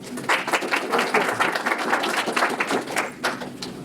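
An audience at an investor pitch event applauds, with a dense run of hand claps sustained steadily and fairly loud throughout, alone without speech.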